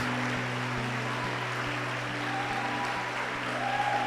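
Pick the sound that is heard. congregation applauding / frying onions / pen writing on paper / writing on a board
congregation applauding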